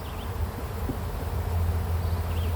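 Honey bees drone steadily around an open hive during a beekeeping inspection, a dense continuous buzz close by with no talking.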